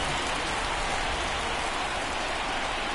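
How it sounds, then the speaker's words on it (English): Rain pours onto a baseball field in the MLB 24 video game, a steady, dense hiss with no gaps, fairly loud and even throughout, with no commentary over it. "the field's not going to be able to hold up if the rain gets any worse than this"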